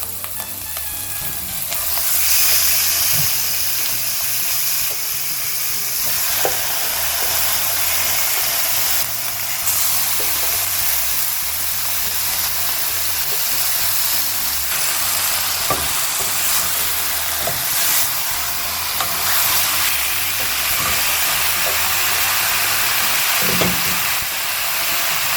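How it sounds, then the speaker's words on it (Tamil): Marinated chicken frying in a pan with sautéed ginger and garlic for a Tamil-style pepper chicken dry, a continuous loud sizzle and hiss with occasional stirring clinks, no voices. "இப்போ நம்ம ஊற வச்ச சிக்கனை சேர்த்துக்கலாம்."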